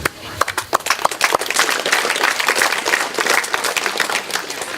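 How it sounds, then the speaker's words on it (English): A crowd at a Fijian pre-school week celebration applauds the children, scattered claps quickly swelling into sustained, fairly close applause with voices murmuring underneath. "They deserve a round of applause."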